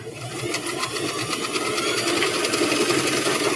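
A sewing machine runs steadily at close range, stitching hair scrunchies, its fast mechanical whir and rapid needle clatter continuing without pause.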